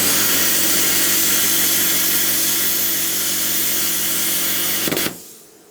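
An Xtreme Plasma Cut 40 plasma cutter slices through 3mm aluminium with a steady, loud buzzing hiss and low hum that holds for several seconds, then cuts off abruptly.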